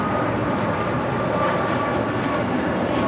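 Airliner taking off from runway 25 right at LAX, a steady, loud broadband jet roar that holds constant throughout with no break or voices.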